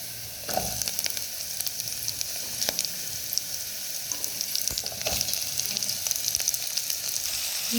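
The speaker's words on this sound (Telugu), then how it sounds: "మనం కట్ చేసుకొని ఉంచుకున్న ఈ సొరకాయ ముక్కల్ని తాలింపులోకి అయితే వేసుకుందాం" Cut bottle gourd pieces drop into hot tempering oil with softened onions, giving a continuous close sizzle and crackle, with scattered pops and occasional stirring scrapes throughout.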